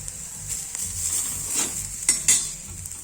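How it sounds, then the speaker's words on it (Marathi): Onions browning in oil crackle softly in the pan, with light spoon scrapes and a couple of brief metallic clinks near the end. No one talks. "हा कांदा बघा लगबग झाला आहे ब्राऊन अजून थोडा ब्राऊन करून घेऊया"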